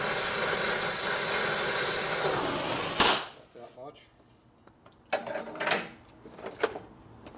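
Torch flame roaring steadily against a motorcycle brake hub, heating one spot to melt the Loctite on a stripped disc brake rotor bolt; the loud even hiss cuts off abruptly, followed by quieter clinks and handling noises.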